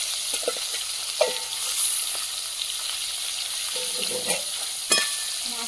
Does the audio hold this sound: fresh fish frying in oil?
yes